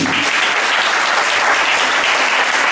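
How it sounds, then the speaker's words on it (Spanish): Church congregation applauding together, a steady dense wash of clapping that stays loud and even from start to finish with no voices over it. "Dale un aplauso al Rey."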